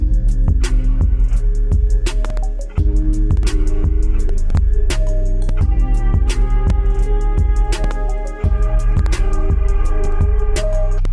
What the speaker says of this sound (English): I added one more snare on top